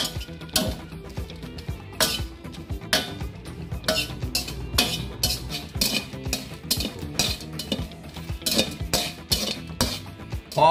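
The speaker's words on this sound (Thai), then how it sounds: "เพียงเรานำพริกแห้งประมาณ1กำมือนะครับมาคั่ว" A handful of dried chillies dry-roasted in a pan, with a steady run of scraping, rattling and metallic clinks from stirring against the pan. The sound is close and fairly even, with no talking.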